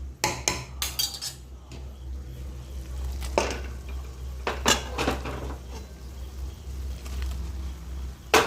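Egg tarka is transferred into a kadai with metal spoon and pan clanks and scrapes, close and moderately loud over a low steady hum.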